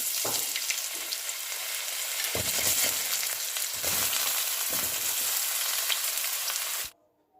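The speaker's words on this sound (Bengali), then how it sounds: "আলু আর পেঁপেটাকে এবার ভেজে নিচ্ছি" Potato and raw papaya pieces fry in a pan after a tempering of cumin seeds and bay leaf, sizzling loudly and continuously with a few stirring knocks before cutting to near silence.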